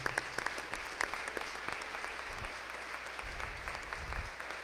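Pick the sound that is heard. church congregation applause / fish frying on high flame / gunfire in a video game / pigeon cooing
church congregation applause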